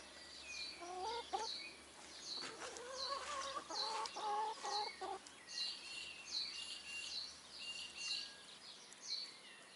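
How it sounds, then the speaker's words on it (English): A chicken clucks close by in a string of short, repeated calls, alone and clear against a quiet background. "Chicken."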